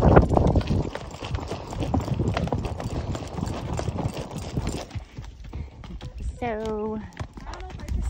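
Horses' hooves clip-clop steadily on a mountain trail during the Tevis endurance ride from Soda Springs toward Robinson Flat, close and continuous, with a brief whinny near the end and a rider talking over it.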